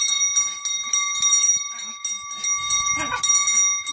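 A bell rings repeatedly as a dog leaps up and hangs from it, bright metallic chimes sustaining over scattered thumps and rustling, with a louder low jolt near the end.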